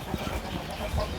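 A chicken clucks in a few short, low bursts close by, with faint background noise and no talking.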